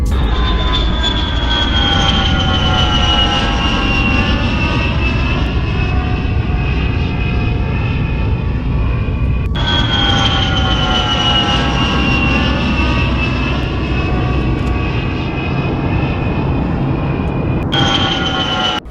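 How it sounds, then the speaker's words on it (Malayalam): Passenger airplane cruising between Kochi and Bangalore, heard from the cabin as a loud, steady engine roar with a whining tone that slowly glides lower, continuous throughout with no voices. "നമ്മളിപ്പോൾ കർണാടകയ്ക്ക് മുകളിലൂടെയാണ് പറന്നുകൊണ്ടിരിക്കുന്നത്"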